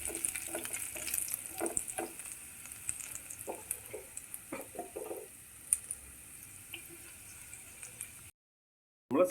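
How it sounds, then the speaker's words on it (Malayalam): Ginger and garlic sauté in oil with a faint, quiet sizzle, broken by scattered scrapes and taps of a spatula against the pan, before the sound drops out briefly near the end. "അതിൻ്റെ അകത്ത് നമ്മൾ ഇഞ്ചിയും വെളുത്തുള്ളിയും ഇട്ട് നമ്മളൊന്ന് സോട്ട് ചെയ്തെടുക്കുകയാണ്."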